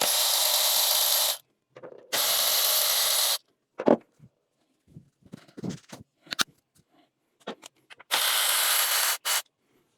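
Ratchet wrench zipping as it backs out 10mm bolts on a Toyota 1GR-FE 4.0L V6 engine during valve cover work, three long loud buzzing ratchet runs separated by short clicks, taps and handling noises.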